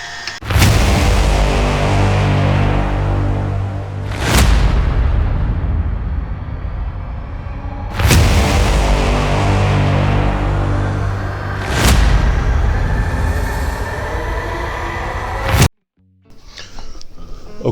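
A meat grinder runs loud and steady, working through sirloin, brisket and short ribs, with a heavy continuous motor drone broken by several sharp clunks before it cuts off near the end.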